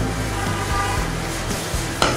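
Flour being stirred a little at a time into an egg and milk batter for Bengali egg pitha, a close, steady whisking and mixing sound with a sharp clink near the end.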